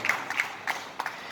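Scattered audience applause at an outdoor honouring event for Corona warriors in a Sirohi garden, a few sparse, moderately distant claps rather than a full ovation.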